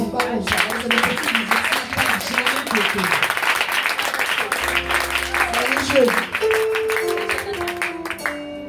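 A church congregation at a national Full Gospel mission vigil applauds, with clapping running under loud voices and singing throughout.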